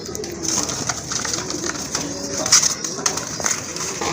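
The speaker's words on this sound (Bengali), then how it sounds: "খুবই অ্যাক্টিভ এক জোড়া কবুতর" A pair of very active pigeons coo close by in soft, repeated throaty phrases, with faint background voices and light clatter around them.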